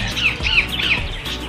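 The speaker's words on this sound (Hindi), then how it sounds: "अब है रोज रिंग्ड, जिन्हें हम तोता कहते हैं" Rose-ringed parakeets at Ludhiana zoo give a string of harsh, high squawking calls, three or four sharp screeches in quick succession over a steady background hum.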